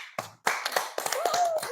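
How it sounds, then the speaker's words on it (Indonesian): A classroom of pupils clapping hands together during a lesson, a few short bursts of claps with children's voices mixed in. "kita tepuk tangan"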